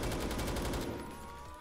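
AK-15 rifle firing in the game Phantom Forces: a rapid automatic burst of dense, loud shots lasting under a second, followed by a fading echoing tail.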